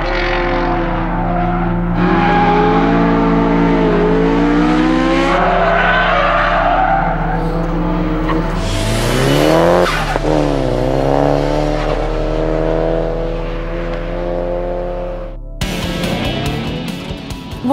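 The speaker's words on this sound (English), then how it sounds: "The energy which a car creates when travelling at speed can easily push you off the track" A car on a test track skidding at speed, engine droning and shifting pitch as it revs, with tires squealing through the middle of the run before a brief harsh burst at the end.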